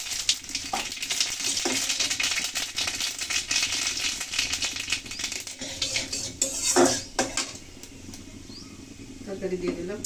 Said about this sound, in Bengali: তেল দিয়েছি কড়াইতে, দেখুন তেল কিন্তু গরম হয়ে গেছে। আমি দিয়ে দিয়েছি কালো সরিষা